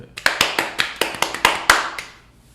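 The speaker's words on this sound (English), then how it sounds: "Round of applause." A few people clap in a loose, uneven run of about a dozen sharp, close hand claps for a round of applause, fading toward the end with no talking over it.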